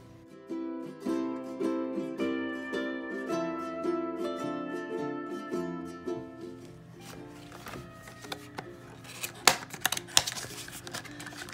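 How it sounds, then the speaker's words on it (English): Cardboard and plastic packaging for a Coolshow CSH5CB three-channel GoPro battery charger is opened with soft irregular taps, crinkles and rustles, up close and quiet, ending in sharper snaps and clicks. "All right, let's unbox it."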